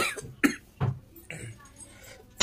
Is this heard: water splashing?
no